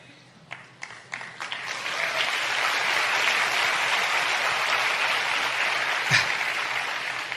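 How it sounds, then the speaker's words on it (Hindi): A large seminar audience claps together, a few scattered first claps building quickly into sustained, dense applause that fills the hall and carries on steadily to the end. "जब आप ताली बजाते हैं ना, मुझे सुनाई देता है।"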